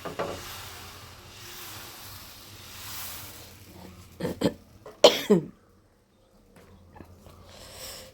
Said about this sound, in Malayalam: ചുമ കാരണം ഒരു രക്ഷയില്ല